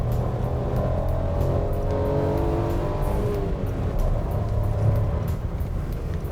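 A 2020 Suzuki S-Presso with a 1.0L engine and manual gearbox accelerating hard, its engine a loud, steady, close drone with rising harmonic tones throughout and no talking.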